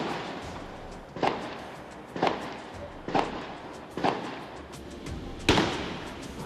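Gunshots fired at a military barracks at night sound as five distant sharp cracks spaced about a second apart, each with a short echoing tail, over a steady low background hum.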